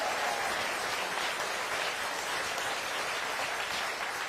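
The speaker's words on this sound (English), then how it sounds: "Give him a round of applause." An audience at the State of Milwaukee County address gives a round of applause, a dense, continuous roar of clapping that holds steady throughout.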